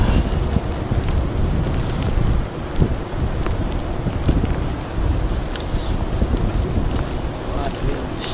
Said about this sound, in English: What wind!